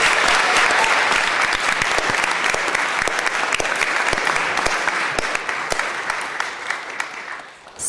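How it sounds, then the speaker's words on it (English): Sustained applause in a San Francisco Board of Supervisors chamber honoring a retiring public health official, broad and continuous clapping with a few sharper individual claps, tapering near the end. "If we can give him a round of applause"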